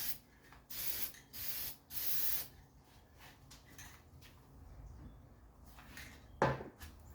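Paint is sprayed onto dolly parts in four short, close hissing bursts, followed by quieter handling clatter and a sharp knock near the end, with no talk.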